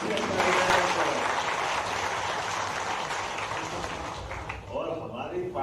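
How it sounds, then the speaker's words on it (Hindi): Broad, steady applause from a large audience at a political felicitation event in Bhopal, dense clapping holding throughout with some voices mixed in. "जोरदार ताली बजा करके"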